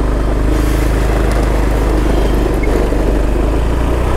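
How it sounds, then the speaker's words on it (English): A cold engine running roughly on a vehicle in Pai, northern Thailand, idles with a steady, loud, uneven low rumble throughout, with no voices over it. "Cold engine."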